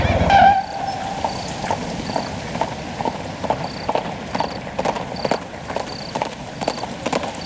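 A horse's hooves clip-clop at an even walking pace, a regular series of distinct knocks close by over a low background hum, preceded by a brief tonal sound at the start, with no talking.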